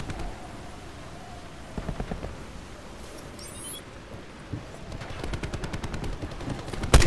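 Gunfire in a Call of Duty Black Ops 4 multiplayer match, with a scattered burst around two seconds and a denser rapid volley of shots toward the end, over quiet background game noise.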